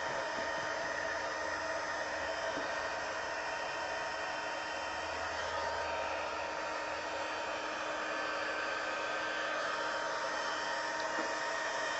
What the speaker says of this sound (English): I have a heat tool, and it's going to melt my embossing powder.